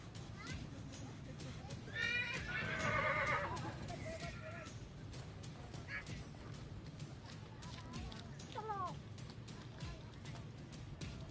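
A 68-inch-tall horse at the Sarangkheda horse market gives a loud, shaky whinny and later a shorter second neigh, with crowd noise and people talking throughout.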